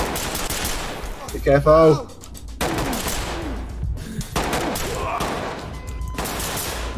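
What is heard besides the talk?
gunfire in the video game Ready Or Not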